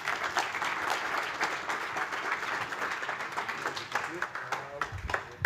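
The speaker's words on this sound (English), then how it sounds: "please, Martin, start off with a short round of applause for his talk" Audience applause opening a talk at the EA2022 event, a dense round of clapping from a crowd that fades toward the end, with some talk mixed in beneath it.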